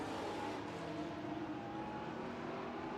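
Super stock race cars roar around a short oval track at a distance, a continuous faint drone of engines blending together as they run side by side.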